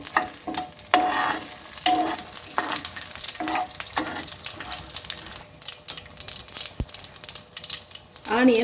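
Horse gram chutney ingredients with pepper and coriander are stirred in a hot pan, giving bursts of scraping and sizzle in uneven strokes, with a sharp knock near the end.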